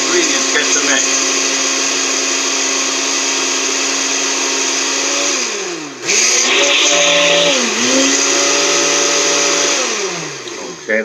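Blender on high speed whirring through sweet potato pie filling, a loud steady motor drone that dips and shifts pitch briefly partway through as the mixture churns.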